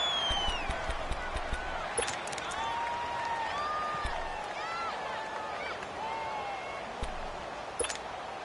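Crowd noise fills a domed stadium in a video game football match, a continuous roar with whistles and shouts that swells at moments.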